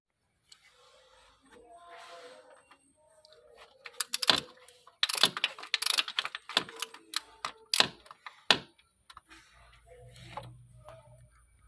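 A 13 mm socket on an extension works a starter motor bolt loose, giving irregular metallic clicks and ratcheting clatter that build to a busy cluster midway, close up.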